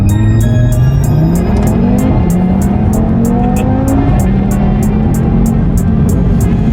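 A 2020 Audi TT RS accelerates hard from inside the cabin, its engine note climbing loud and close through several quick gear changes, with a steady ticking in the background.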